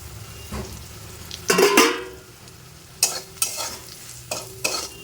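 Soft scraping of a spoon stirring semolina into frying potatoes in a pan over a low background hiss, with a few louder scrapes and clinks spaced irregularly.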